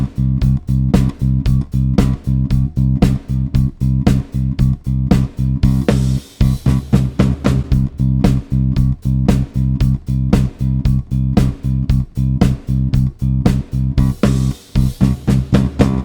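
Bass guitar thumping steady, even eighth notes on the root, loud and close, with a short busier fill near the end of each phrase.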